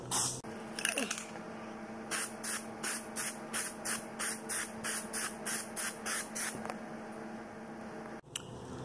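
Short aerosol bursts of Plasti Dip spray onto a Jeep Grand Cherokee emblem, about a dozen even hissing puffs in a steady rhythm, close and moderately loud, with no talk.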